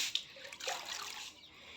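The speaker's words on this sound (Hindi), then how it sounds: "थोड़ा थोड़ा डाल देते हैं पानी" Water trickling and splashing gently from a small pour onto potted nursery plants, soft and close, in a brief, uneven stream with no talking.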